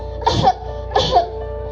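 Two harsh coughs, about half a second apart, close and fairly loud.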